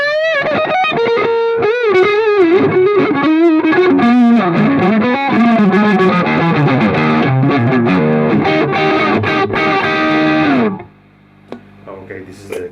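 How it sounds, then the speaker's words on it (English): An electric guitar on its neck single-coil pickup, heard through a Peavey JSX Joe Satriani signature amp head, plays loud overdriven lead lines with bends and vibrato for about ten seconds, then stops abruptly, leaving faint hum. "This is the neck pickup with a single coil, so this sounds like a Stratocaster."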